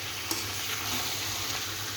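Unpeeled potatoes sautéing together with mutton in a pot give off a steady, moderately loud sizzle with faint stirring movements throughout.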